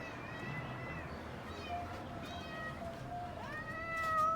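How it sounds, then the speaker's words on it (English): A pet cat meows several times while being held indoors, drawn-out, moderately loud calls over a steady low background hum. "we actually have a kitty cat as our pet"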